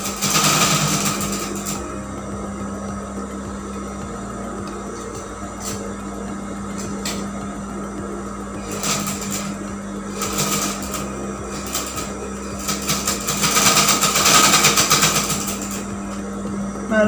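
A sewing machine stitching a cloth 3D face mask runs in a steady, continuous whir with a constant motor hum, close and fairly loud, with light rattling ticks throughout and no talking.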